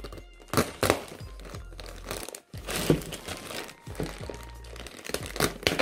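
A knife slices and pries at the plastic and cardboard packaging of a Bandai Dragon Ball GT Son Goku figurine, making close crinkles, scraping rips and a few sharp cracks and thunks, with no voices.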